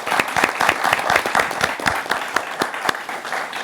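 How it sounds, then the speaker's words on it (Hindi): A studio audience claps to welcome a guest onto a Hindi budget discussion show, a steady, moderately close round of dense hand claps lasting the whole stretch. "तालियों के साथ स्वागत कीजिए"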